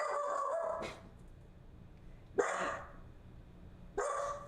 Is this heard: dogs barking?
yes